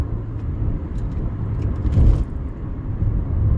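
Cars driving at speed through the Las Vegas airport tunnel beneath the main runway, a steady loud road rumble with a brief swell as a vehicle passes close, echoing within the enclosed tunnel.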